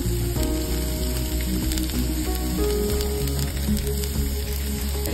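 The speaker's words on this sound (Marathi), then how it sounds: "हाय फ्लेम वरती असं परतून घेणार आहे." Onion, carrot and cabbage sautéing on high flame for chicken spring roll filling, a continuous dense sizzle with repeated spatula scrapes and clinks against the pan.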